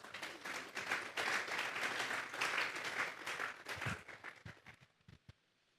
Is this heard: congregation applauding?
yes